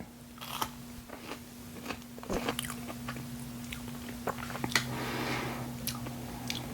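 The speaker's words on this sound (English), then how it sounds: "I'm gonna try the mozzarella sticks first" Someone bites and chews a Burger King fiery mozzarella stick close to the mic, producing soft crunches and moist chewing clicks over a steady low electrical hum, with no talking.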